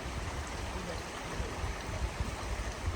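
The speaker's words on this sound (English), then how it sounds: "it is right next to just the most soothing sound of water" Steady, soft rush of a shallow stream flowing beside a campsite on a multi-day overlanding trip through Georgia, a continuous close wash of water with no breaks.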